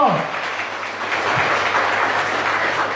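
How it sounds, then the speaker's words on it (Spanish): Congregation clapping during a Spanish and Guarani sermon about the Holy Spirit, a dense continuous wash of applause in a reverberant hall that stays steady and loud, with a few voices rising from the crowd. "Un fuerte aplauso al Espíritu Santo"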